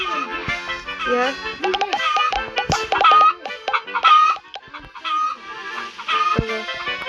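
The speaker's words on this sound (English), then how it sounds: "Britton, look how much chickens I have" Game sound effects of chickens clucking on a video game chicken farm, busy overlapping bursts of clucks and crowing-like calls throughout, fairly loud with a dense layered, musical quality.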